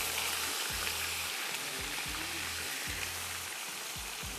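Onions for chicken pulao fry in a pan with a steady, loud hiss and sizzle throughout, broken by regular low thumps of stirring.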